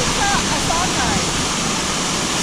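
Rushing waterfall on a salmon creek in Seward, Alaska gives a constant broadband roar, close and loud, unbroken throughout; faint voices barely rise above it.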